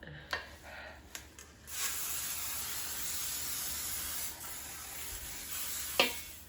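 Cooking spray hissing from a can onto a baking pan for stuffing, a steady close spray lasting several seconds with a couple of short clicks and a sharp burst near the end.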